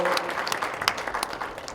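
Applause at a Brownfield training graduation for New Bedford Police Chief Paul Olivera: moderate, even clapping from a modest crowd that tapers slightly toward the end, with a voice faintly present.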